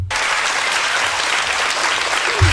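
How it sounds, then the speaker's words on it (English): A studio audience at the Jerry Springer talk show breaks into loud, steady applause, a dense wash of clapping that holds evenly for a couple of seconds. "How is this getting applause?"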